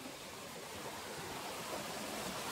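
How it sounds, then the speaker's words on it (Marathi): A waterfall at Bhimashankar pours down over rocks, heard as a faint, even, broadband rush of water that stays steady without a break. "हे बघा वरी धबधबा आहे, हे त्याचं पाणी आहे"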